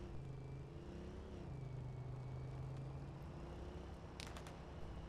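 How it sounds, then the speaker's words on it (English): Quad bike engine in Arma 3 runs at a steady, low drone while driving, faint and continuous, with a brief rev rising near the end. "So let's get into the quad bike. Let's take a drive."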